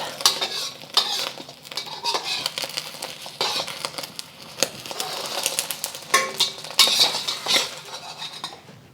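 Spatula scraping and clinking against a wok while a cooked egg is rolled up, a series of close metallic scrapes and taps, some louder bursts near the end.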